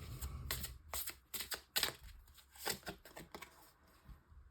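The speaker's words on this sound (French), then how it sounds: "je prends le tarot des anges gardiens de Dorine Vertu pour sortir une première carte" Cards from a guardian angel tarot deck shuffled and drawn, giving quick crisp papery flicks and snaps in uneven bursts, close and faint with no talking.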